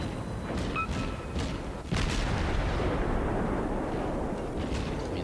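Naval guns fire a sustained barrage in the World of Warships video game, with heavy booms rolling into one another over a continuous loud, rumbling wash of gunfire.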